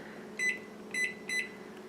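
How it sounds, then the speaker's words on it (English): A microwave oven runs with an egg pod cooker inside, its steady low hum and fan whir continuing beneath three short, bright electronic beeps spaced about half a second apart. "Here's the egg pod in the middle of the microwave"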